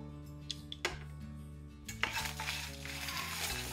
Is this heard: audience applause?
no